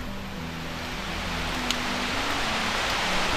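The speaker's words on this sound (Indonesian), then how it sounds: "Waduh, hujannya lumayan cukup besar." Heavy rain pours down steadily around a tomb site, a dense even hiss with no breaks and no voices.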